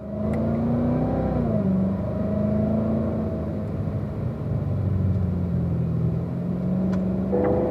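A Corvette rolls out onto a track with a loud, steady engine drone that shifts pitch as it accelerates, heard close from inside the car with no talking.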